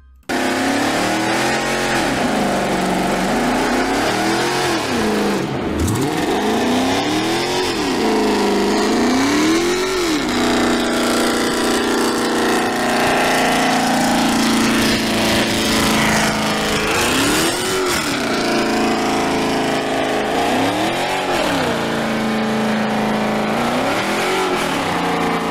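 A Dodge Charger does a burnout, its engine revving hard in repeated rising and falling surges over a steady roar of spinning tires, loud and close throughout.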